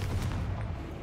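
A Confringo spell explosion bursts in Hogwarts Legacy, a dense, rumbling blast that fills the whole second with heavy low-end roar and crackle.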